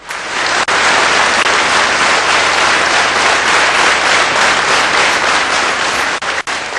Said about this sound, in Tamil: இங்க இருக்கிறதுலயே யாருக்கு அதிகமா கைத்தட்டல் கிடைச்சது?